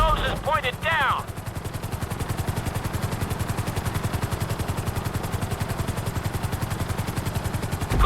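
Helicopter in Grand Theft Auto V during flight school, steady rapid rotor chop pulsing loud and constant, with a brief spoken instruction over the start before the beating blades carry on alone.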